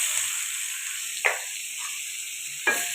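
Onions sizzle in the oil left over from frying chicken, a steady bright hiss with two short louder crackles as they are stirred, close up and with no voices.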